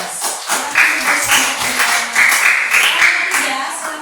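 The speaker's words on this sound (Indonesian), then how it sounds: "kita beri aplaus" Classroom applause after a group presentation: a few seconds of scattered clapping from a class, fairly loud and close, with voices mixed in.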